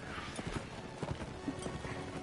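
Armored horses gallop in Mount & Blade Warband, with a dense, rapid clip-clop of many hooves and an occasional whinny, steady and fairly close throughout.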